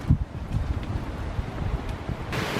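Strong wind buffets the microphone at a beach, a steady low roar with gusty swells and a sharper burst near the end, with no voices.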